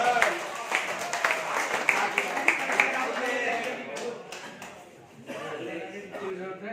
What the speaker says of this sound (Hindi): आप भी तड़का लगा दें जोरदार तालियों के साथ।